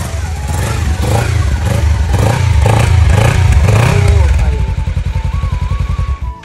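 Superbike engine at a delivery reveal, loud and close, its revving swelling to a roar and then dropping into rapid idling pops, while someone talks excitedly over the early part.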